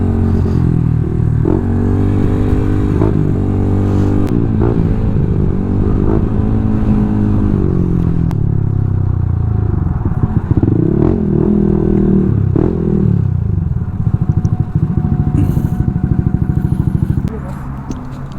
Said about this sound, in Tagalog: mag-i-street tune tayo nitong NMAX version 2 220cc.